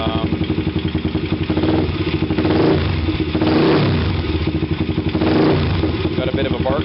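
A motorcycle engine runs loudly with a throaty, pulsing idle, briefly revving up twice before settling back into its rumbling beat.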